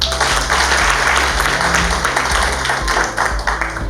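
A conference audience gathered to review a constitution's implementation gives dense, loud, continuous applause throughout, with many hands clapping together and a low hum from the room sound system underneath.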